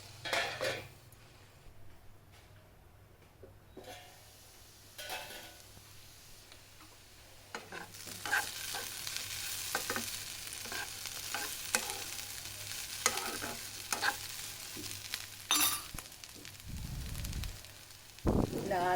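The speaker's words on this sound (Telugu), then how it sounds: "కరివేపాకు వేసి ఇలా ఫ్రై చేయాలి" Curry leaves and potatoes fry in a pan for a kids' lunchbox aloo fry, a quiet hiss at first that swells into steady sizzling with scraping stirs and occasional clinks of a utensil against the pan.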